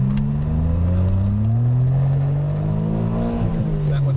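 A Suzuki Cappuccino engine revving up toward 7,000 RPM, a loud, steady rising drone with a whirring, motorcycle-like tone heard from inside the car, climbing in pitch before briefly dipping near the end.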